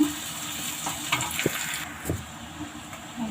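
Finely chopped capsicum hitting a hot pan for restaurant-style egg fried rice, a soft steady sizzle with a few clacks of stirring, moderately quiet and close, no voices.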